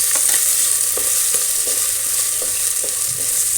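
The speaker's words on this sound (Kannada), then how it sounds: "ಎರಡು ಸಣ್ಣ ಉರಿಲೆ ಸ್ವಲ್ಪ ಹುರಿಬೇಕು. ಜೀರಿಗೆ, ಮೆಣಸು ಮತ್ತು" Cumin, pepper and moong dal roast on a low flame in a pan for millet pongal, with a steady dry sizzle and the intermittent scrape of stirring, close and continuous, no voices.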